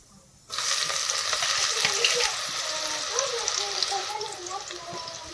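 Chopped garlic, chilies and cumin seeds hit hot oil and fry with a loud, steady sizzle that starts abruptly and continues close by, with faint talk underneath.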